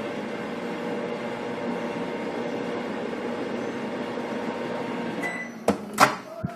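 A steady low hum of a microwave oven heating Peeps marshmallows, close by, followed near the end by a couple of sharp clicks and knocks.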